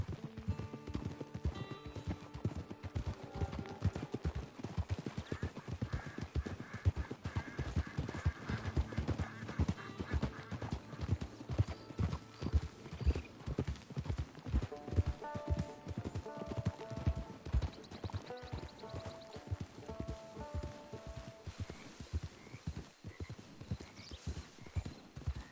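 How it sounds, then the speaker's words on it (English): Horse hooves clip-clop steadily in Red Dead Redemption 2, an even walking rhythm of close, crisp hoofbeats over a game music bed, with a brief whinny-like touch. "It's your horse."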